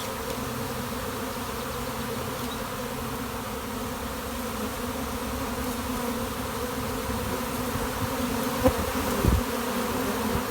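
A honeybee swarm hanging in place hums with a dense, continuous buzz that stays fairly even and moderately quiet, with a couple of brief close bumps near the end.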